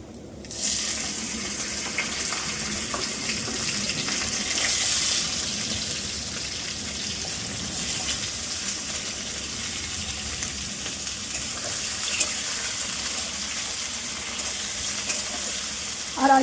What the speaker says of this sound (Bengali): সবজিগুলো ভাজা হোক